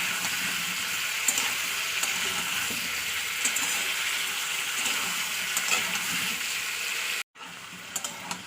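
Ginger-garlic spice paste sizzles steadily in a pan as it is sautéed for a fish curry with radish and spinach, a continuous close frying crackle that cuts off sharply near the end before resuming briefly.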